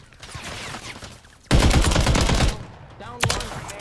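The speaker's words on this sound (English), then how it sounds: "Oh, I'm getting sniped at." Sniper gunfire in Call of Duty Warzone, a sudden loud burst of shots followed by a sustained crackle of fire and a sharper report moments later, with no talk over it.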